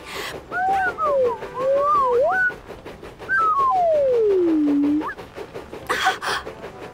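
Gliding whistled tones rising and falling in short phrases, then a long descending whistle, like a cartoon Stirling engine character attempting to whistle, with faint background noise.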